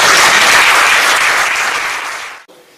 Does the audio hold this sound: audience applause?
yes